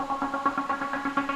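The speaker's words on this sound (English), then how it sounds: "It's just like a little saw pluck sort of thing," Sampled saw pluck synth from a dance-track remake forms a quiet background layer, short bright plucks repeating in a steady quick rhythm over a sustained low tone.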